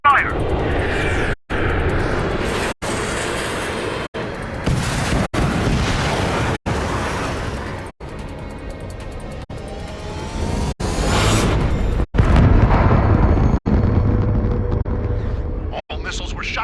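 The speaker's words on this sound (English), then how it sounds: "All missiles were shot out of the sky!" Cruise missiles are shot down in an air combat video game, with loud aircraft engine roar and rumbling blasts repeating over several seconds while voices talk over the action.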